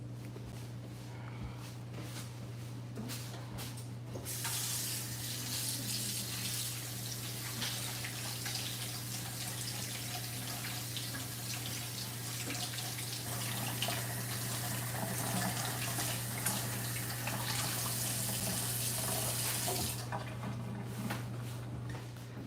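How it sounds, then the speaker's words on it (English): Tap water runs steadily in a home kitchen during handwashing with soap, a continuous broadband gush lasting throughout, fairly close and even in level, with a faint steady hum beneath and no talk. "I'll get some soap and wash my hands."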